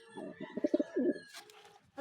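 A double-tagged pigeon coos close by in a low, throaty burst of warbling notes, followed by faint rustling.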